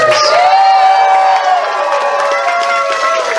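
An audience cheers and whoops for dancers at a furry convention dance competition, a loud sustained crowd roar with high shouts, no talk.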